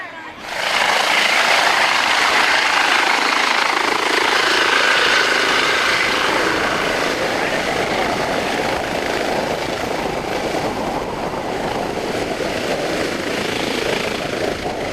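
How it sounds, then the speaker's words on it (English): A helicopter lifts off at the end of a safety festival demonstration after a patient is loaded aboard, its loud rotor and engine roar rising quickly and holding steady and close for the rest of the clip. "they're going to be loading the patient into the helicopter and they'll lift off"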